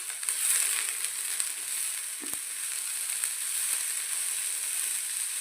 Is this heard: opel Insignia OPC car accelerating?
no